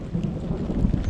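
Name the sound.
thunder and rain in the mountains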